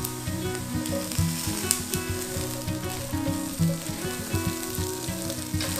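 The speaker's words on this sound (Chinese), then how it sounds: "我们就放入茭白笋跟豆豉，把它炒香。" Water bamboo shoots and fermented black beans are stir-fried in a hot wok, with steady loud sizzling and the rhythmic scrape and clatter of stirring throughout.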